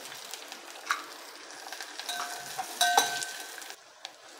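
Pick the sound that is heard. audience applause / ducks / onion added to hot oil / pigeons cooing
onion added to hot oil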